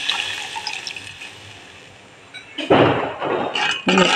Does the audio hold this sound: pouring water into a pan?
yes